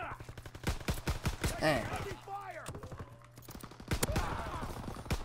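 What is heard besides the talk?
M1911 pistol gunfire in the video game Call of Duty WW2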